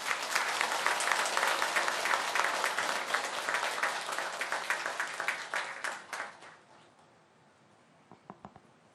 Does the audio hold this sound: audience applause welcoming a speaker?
yes